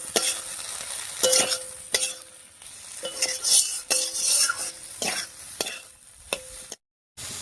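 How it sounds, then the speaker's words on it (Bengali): Egg with potato and spices being stirred in a pan for an egg and eggplant curry: repeated scraping strokes of a spatula over a soft sizzle, steady and close, with a brief silence near the end. "ডিমটা দেখুন হালকা জমে গেছে, এবারে নাড়িয়ে দিচ্ছি।"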